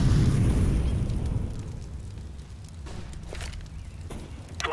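Fire grenade thrown in CS:GO, opening with a loud burst of roaring flame that fades into a lower crackling burn, followed by scattered footsteps and small clicks.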